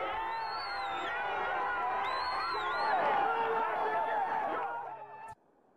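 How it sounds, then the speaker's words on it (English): A large crowd cheers and whoops loudly amid dense, excited chatter, building toward a peak before cutting off abruptly near the end. "Blacks cheering and whites crying."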